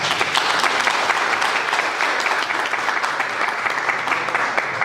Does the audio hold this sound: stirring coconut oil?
no